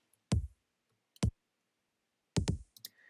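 Punchy kick-like drum hits with the low end filtered out, from a remix of a trance track: four dry, sharp hits with gaps between them, the last two close together, with no other sound.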